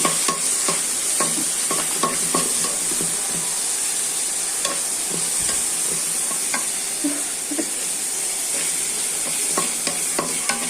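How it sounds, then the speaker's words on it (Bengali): Onion, garlic, green chili and dried shrimp fry in oil with a steady hiss, while a spatula scrapes and taps the pan in a fairly regular stirring rhythm throughout, close and clear. "এখন পেঁয়াজ, রসুন আর কাঁচামরিচ একটু ভেজে নিলাম, তারপরে এখন দিয়ে দিলাম চিংড়ি শুটকি"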